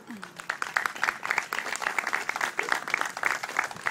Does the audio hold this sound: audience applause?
yes